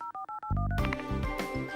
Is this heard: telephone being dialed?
yes